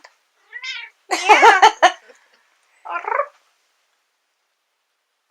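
A house cat meows loudly and close in a home, with a short chirp, then a long, wavering cry and a shorter meow after a pause. A person speaks briefly.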